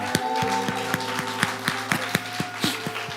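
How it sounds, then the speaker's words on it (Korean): A church congregation claps in thanks to God at a Sunday worship service, a steady run of fairly even claps over a low sustained organ or keyboard chord. "자, 우리 하나님께 먼저 감사의 박수 드릴까요?"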